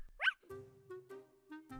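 A single dog gives a short, sharp bark, then quieter whimpering yips follow beneath a tonal voice, and excited talking carries on throughout the brief outdoor scene.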